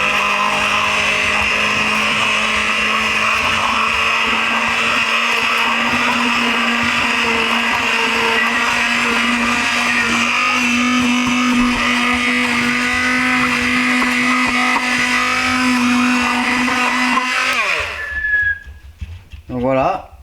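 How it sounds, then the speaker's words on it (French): An immersion blender whirs steadily through homemade ketchup for about eighteen seconds, a loud close motor whine with a churning edge, then cuts off abruptly, leaving brief clatter and faint sounds. "petit mixeur plongeant"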